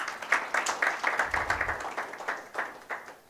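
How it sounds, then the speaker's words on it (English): Scattered hand claps patter quickly from a modest crowd, a brief burst of applause at a moderate distance with no talking over it. "A round of applause for him, please."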